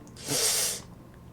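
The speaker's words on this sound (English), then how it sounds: "A sharp inhale, like someone is sucking the air through their teeth." A single sharp, hissing inhale sucked through the teeth, heard in the visual novel game Doki Doki Literature Club Plus; it is close and breathy, lasting under a second, with no speech around it.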